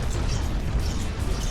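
Cannon fire from a large battleship of about 18,000 blocks in the naval combat game From The Depths, heard as a dense, continuous rumble of overlapping booms with no clear gaps between shots.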